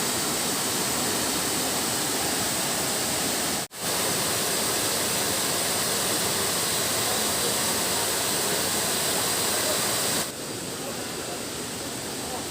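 Kedung Pedut waterfall in Kulon Progo pours into its pool with a loud, constant, close rushing roar, broken only by a momentary dip and softening slightly near the end.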